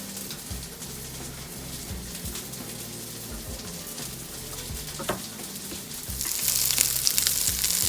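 Vegan burger patties fry in a pan with a steady, crackling sizzle that holds close and continuous, then rises louder and brighter toward the end.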